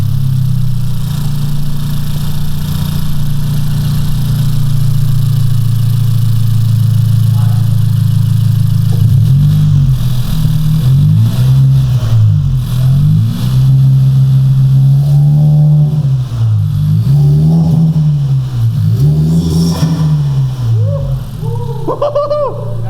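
A 10th-generation Honda Civic Si hatchback engine running at its first start-up, a steady loud idle broken by repeated rising and falling revs in the second half, close to the car.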